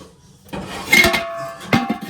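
A cooking pot (handi) is handled in a kitchen, with a couple of close metallic clanks and knocks, one ringing briefly, over a quiet background.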